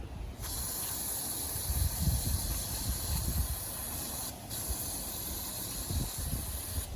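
Mass airflow sensor cleaner sprayed from an aerosol can onto the mass airflow sensor of a Chevy Impala, a steady close hiss running for about seven seconds with one brief break partway through.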